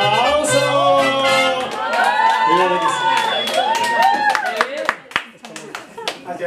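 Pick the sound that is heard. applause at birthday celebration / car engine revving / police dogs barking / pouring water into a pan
applause at birthday celebration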